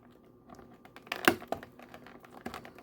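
Cutting open plastic toy packaging for 1988 Ninja Turtles re-edition figures, with scattered snips, crinkles and tearing, including one sharper crackle partway through, fairly close with no talking.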